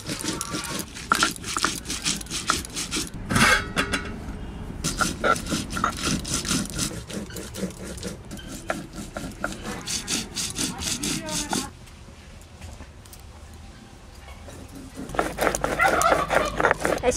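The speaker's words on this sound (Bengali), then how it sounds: "মশলা প্রায় বাটা হয়ে গেছে, আর একটুখানি বেটে দেবো" Dried chillies, garlic cloves and mustard ground into a paste by hand: close, rhythmic back-and-forth rubbing and grating strokes that pause briefly, with a dog sounding at times in the background.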